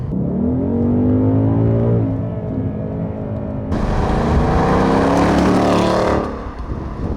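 A 2024 Ford Mustang GT V8 engine revs hard, its rising growl swelling into a loud, raspy roar before dropping away, close and prominent with no talk.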